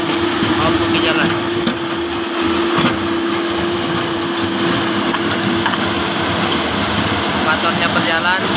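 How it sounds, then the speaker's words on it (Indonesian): Excavator engine running continuously on a road-repair job, a steady loud droning rumble with a constant hum, while someone talks over it. "Motornya lagi berjalan."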